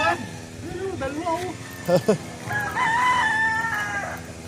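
A rooster crows with a long, wavering call that rises and falls, and people talk over it before and after.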